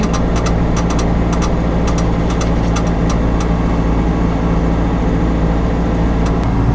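Kubota tractor running in low gear with the mower blades engaged, a loud, steady low engine drone and mechanical rumble throughout, with faint intermittent high clicks over it.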